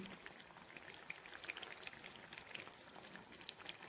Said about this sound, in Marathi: आणखीन पाच मिनिटे हे असंच उकळू द्यायचं आणि तेही मंद आचेवर